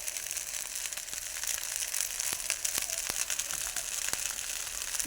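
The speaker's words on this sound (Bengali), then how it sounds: "বিনস ভালো করে নাড়াচাড়া করে নিলেই রেডি" Peas, carrots and beans are stirred through fried rice in a hot pan. A soft, constant sizzle sits under sharp, scattered scrapes and crackles from the stirring.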